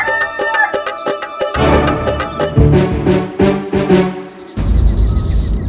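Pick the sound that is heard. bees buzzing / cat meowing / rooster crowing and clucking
rooster crowing and clucking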